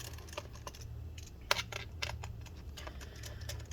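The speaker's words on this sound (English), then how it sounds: "take out all these screws" Screws being removed from a Dell XPS 13 9350 laptop, producing faint close clicks and light scraping taps scattered over a low background hum.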